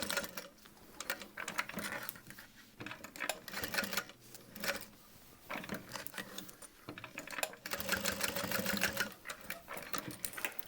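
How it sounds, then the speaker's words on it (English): A sewing machine runs in bursts, box stitching a leather strap for a convertible leather backpack, its rapid needle chatter steady and close, pausing briefly between runs. "And then I'm going to do a box stitch at 1/8 of an inch."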